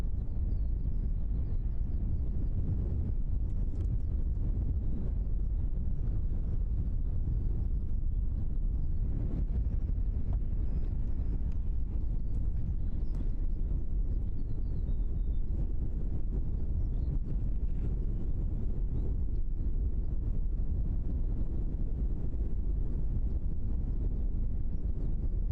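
Strong wind buffeting a microphone at Christchurch Airport, a continuous low, rough rumble that surges and eases in gusts for the whole stretch, with no voices.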